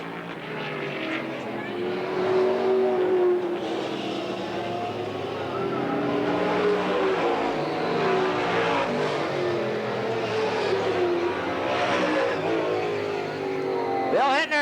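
Stock cars race around Eugene Speedway in 1991, their engines droning and shifting pitch as the pack passes, a dense continuous roar with a race announcer calling the action over it.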